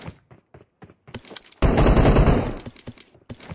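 Rapid gunfire in a battle royale shooter game breaks out as a dense, loud automatic burst lasting about a second, after a string of short thumping footsteps, with more faint taps following.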